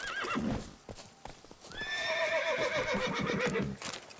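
Horse in The Witcher 3, with hooves clip-clopping and a loud, drawn-out neigh rising in the middle, close and clear over faint game ambience.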